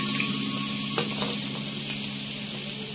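Onions for veg keema frying in a pan with bay leaf, cloves and spices, a loud continuous close sizzle with a faint background tone and occasional stirring scrapes, with no talking.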